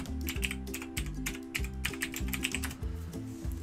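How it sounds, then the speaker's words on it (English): Password typed on a computer keyboard, close-up rapid key clicks in quick irregular bursts, with no one speaking. "I'll type in my password."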